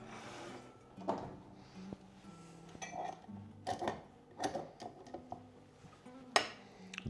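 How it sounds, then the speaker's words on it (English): Butter and sugar beaten together in a bowl for lemon snaps: repeated clinks and knocks of a utensil against the bowl, uneven in rhythm and close by. "Now I need to beat the butter and some sugar together."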